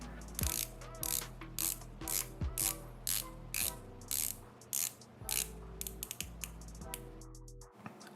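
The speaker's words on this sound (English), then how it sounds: "Moving on to the bezel, we have a coin edge, unidirectional 120 clicks bezel. The bezel is easy to turn" A unidirectional coin-edge 120-click ceramic bezel on a Seestern S434 dive watch is turned in a series of crisp, close ratcheting clicks that come in quick bursts with short pauses, with no talking.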